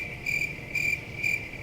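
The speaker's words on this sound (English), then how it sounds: "And there's the crickets" Crickets chirp in Factorio, a high, bright trill repeating in regular pulses about every half second over a quiet low ambient bed, with no speech.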